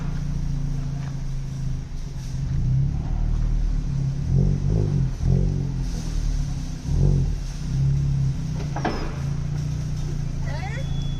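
An Audi B5 A4 big-turbo engine rumbles at idle, then revs in a few short bursts, the low exhaust note swelling and falling, with a voice briefly heard nearby.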